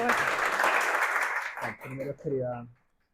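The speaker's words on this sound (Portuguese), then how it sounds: "uma salva de palmas para o doutor" A small audience at a talk applauds a surgeon, giving a brief burst of clapping that fades out before a voice starts speaking.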